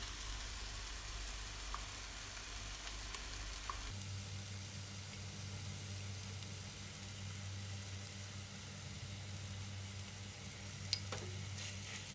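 Ground chili paste sizzling as it is sautéed in oil for a large batch of beef rendang, a steady close frying hiss with a low hum that drops out after a few seconds and a faint clink near the end.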